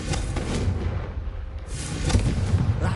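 Confringo spell blasts in Hogwarts Legacy, several sharp booming bursts in quick succession, fairly close and loud, with a brief lull between volleys.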